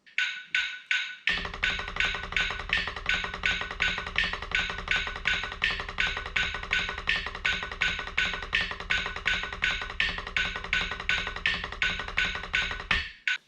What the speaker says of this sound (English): Every movement will be 2 notes and I'm just bouncing the stick and bringing it back up.